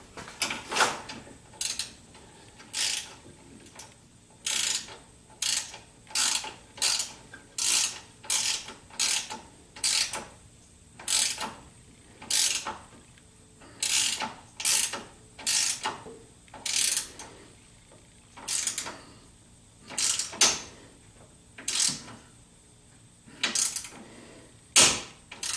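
A ratchet wrench loosens bolts on the bumper of a 1976 Corvette, giving short bursts of clicking at a steady rhythm, about twenty strokes with brief pauses between, close and clear, with no talking.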